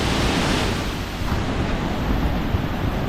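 Flood water roaring over Khlong Lan Waterfall, a loud, steady broadband rush with no breaks, blended with wind noise on the microphone and no voices.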